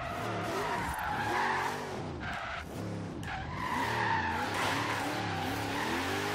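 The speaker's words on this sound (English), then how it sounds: "Some roundabout donuts here." Slammed, stanced El Camino doing donuts around a roundabout in Forza Horizon 3, tires squealing steadily over a droning engine, loud and close throughout with rising and falling pitch as the car circles.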